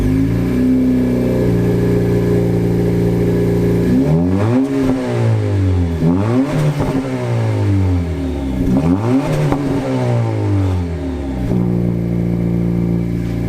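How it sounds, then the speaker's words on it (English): A 2022 Honda Civic Si with a new exhaust idles, then revs hard several times with rising and falling exhaust roars, and settles back to a steady idle. "thanks to this new exhaust"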